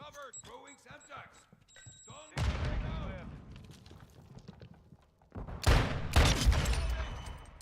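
A Semtex grenade explodes in a Call of Duty match, a heavy boom followed by a burst of loud gunfire, with close talk and game sounds before and between.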